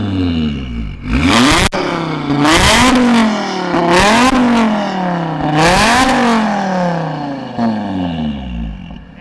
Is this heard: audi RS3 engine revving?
yes